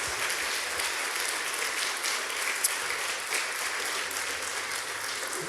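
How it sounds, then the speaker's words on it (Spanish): Church congregation giving loud, steady applause for the volunteers at a Sunday service, dense clapping filling the whole stretch with little else heard. "Vamos a dar un fuerte aplauso a todos los servidores"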